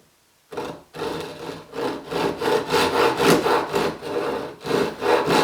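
Hand saw cutting a walnut board for a half-blind dovetail joint, a steady run of loud, rhythmic back-and-forth strokes after a brief silent start.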